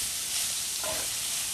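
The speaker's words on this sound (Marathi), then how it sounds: "गाजर आपल्याला व्यवस्थित परतून घ्यायचं आहे." Carrots sautéing in ghee over a medium flame for carrot halwa, giving a steady close sizzle and frying hiss with a brief stirring scrape partway through.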